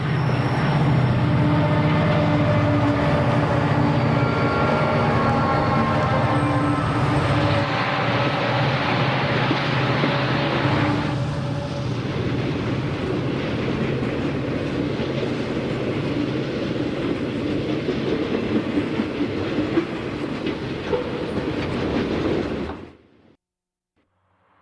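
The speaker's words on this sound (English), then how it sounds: "Watch how quickly the mix of SD70s and the SD45 pull this 85-car loaded manifest out of the 80-foot deep sag at Grover." An 85-car loaded freight train hauled by SD70 and SD45 diesel locomotives climbs out of a deep sag at Grover on the Southern Pacific Coastline, its engines roaring loudly and steadily over rumbling wheels before cutting off abruptly.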